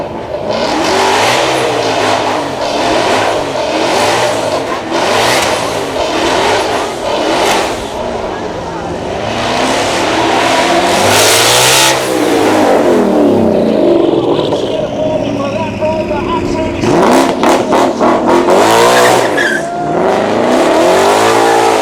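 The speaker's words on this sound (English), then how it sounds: "It's the only twin turbo Mustang in the UK, and it sounds, well, a bit like this." A twin-turbo V8 Ford Mustang revs hard at a supercar weekend, the engine snarling through repeated rising and falling sweeps, loud and close, with a burst of rapid blips near the end while people talk over it.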